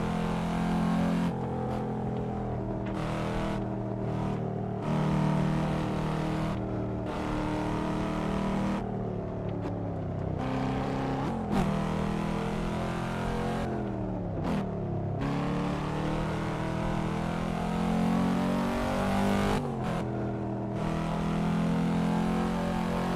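Car engine in the Assetto Corsa driving game on a lap, a steady engine tone that rises and falls through gear shifts and lifts, running alone and moderately loud throughout.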